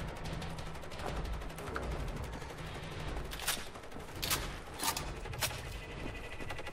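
Shotgun blasts in the video game Wolfenstein: The New Order, several sharp bursts around the middle and end of the clip over a constant dense background of game noise and ambience.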